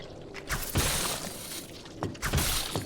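Harsh, crashing bursts from the breeder creature in the horror climbing game White Knuckle, loud and close, with two heavy noisy surges about a second and a half apart over a rumbling ambient bed.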